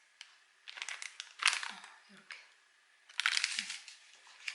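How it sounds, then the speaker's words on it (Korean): A plastic bag from a home COVID-19 self-test kit crinkles as it is handled, in close, crisp bursts of rustling separated by short pauses. "이거는 뭐 비닐봉지인데"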